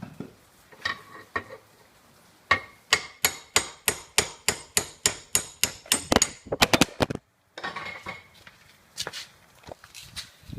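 A rapid series of about twenty sharp metallic hammer strikes on a seized wrench head, close and evenly spaced, followed by a brief pause and a few scattered clanks and knocks.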